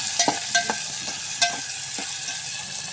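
Onion and tomato fry in hot oil for a samosa filling: a bright, steady sizzle broken by several quick scraping clicks of a spoon stirring the pan up close.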